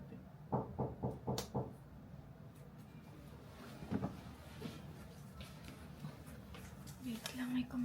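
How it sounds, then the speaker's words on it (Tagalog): Several sharp knocks on a door late at night, a quick cluster of about five raps near the start and another knock a few seconds later, heard close over a low room hum with faint talk around them. "Wait lang, may kumakatok."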